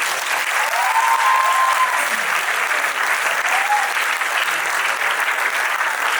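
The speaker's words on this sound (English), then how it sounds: "So ladies and gentlemen, let's have a big round of applause." An audience applauds steadily and loudly throughout, a dense unbroken clatter of clapping with a faint high whistle rising briefly above it.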